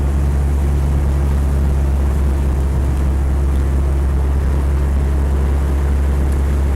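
Land Rover 110 County Station Wagon 2.5 turbo diesel engine running with a loud, steady low drone and no change in pitch, heard from close by.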